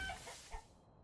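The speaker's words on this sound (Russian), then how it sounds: "Курочек вот можем завести." Chickens cluck faintly in Manor Lords, a brief soft burst of farmyard fowl sounds with no talk.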